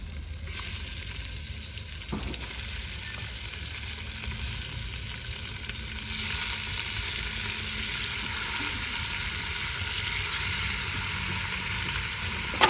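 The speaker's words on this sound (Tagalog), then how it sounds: "Haluin muna natin siya para ma-mix yung ating mga secret ingredients." Pork adobo sizzling steadily in a pan as it is stirred, a constant close frying hiss with occasional soft scrapes and no voices.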